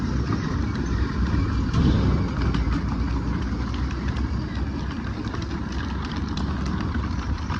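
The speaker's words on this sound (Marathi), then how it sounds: "निघाली पिकूची गाडी आता घराकडे." A Mahindra Thar's engine runs with a steady, loud low rumble as the car pulls away, the drone holding evenly throughout without clear speech.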